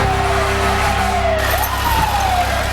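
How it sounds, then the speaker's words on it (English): Fire engine and police car sirens wail, their tones sweeping up and down over a loud, constant roar of traffic and engines in the street. "And hear this just deafening roar of fire engines and police cars."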